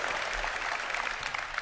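Steady, dense applause from a large convention audience at a game-developer keynote, a brief continuous wash of clapping at moderate level with no voices on top.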